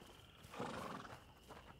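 A horse gives one short whinny at night in A Plague Tale: Innocence. It sounds faint and somewhat distant against quiet ambient background noise.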